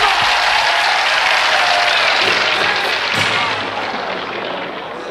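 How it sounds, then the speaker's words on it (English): Sustained applause from a live audience greeting Buddy Holly and the Crickets, a dense, steady wash of clapping that stays loud throughout and tapers slightly toward the end, with no voices over it. "Let's have a nice round of applause for Mr."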